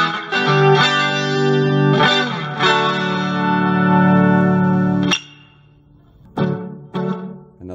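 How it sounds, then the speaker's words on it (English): Sustained electric guitar chords through a Fender Mustang Mini amplifier's reverb and chorus ring out with a shimmering, washy wobble and lingering reverb tails, followed by a few sharp plucked notes after a pause. "Combination of reverb and chorus."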